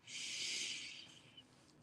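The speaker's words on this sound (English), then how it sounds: "take a deep breath in" One deep breath drawn in during a breathing exercise, a soft close hissing inhale lasting about a second before fading out.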